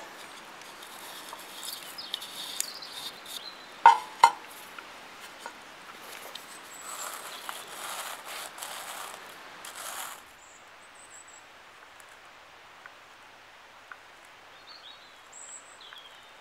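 Sea salt mixture being ground for bushcraft cooking, a quiet stretch of rough, ratcheting mechanical grinding with two sharp clicks near the middle, fading to near silence at the end.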